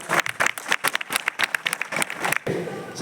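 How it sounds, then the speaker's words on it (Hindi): Loud applause from the audience at a school NCC foundation day event in Naugachia, Bihar, steady dense clapping that carries through the whole stretch. "जोरदार ताली।"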